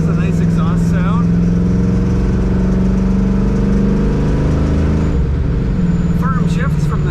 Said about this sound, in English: Has a nice exhaust sound.